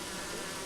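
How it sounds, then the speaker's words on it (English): Honey bees buzz steadily in an open hive under Varroa treatment, a dense continuous hum filling the brief moment at close range with no voices. "There seems to be a fair few bees."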